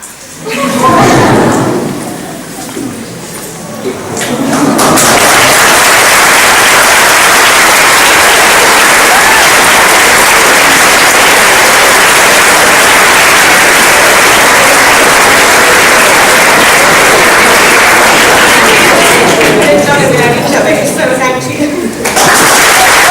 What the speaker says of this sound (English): standing as we applaud